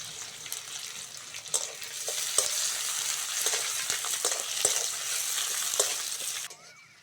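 Onion and green chilies fry loudly in oil, a dense steady sizzle with occasional stirring clicks that cuts off abruptly near the end.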